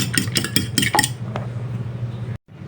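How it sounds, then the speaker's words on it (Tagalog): Eggs being beaten in a bowl for a Filipino fish dish, a quick series of sharp utensil clinks against the bowl, then a steady hum and a brief dropout. "Babatihin ko na itong itlog."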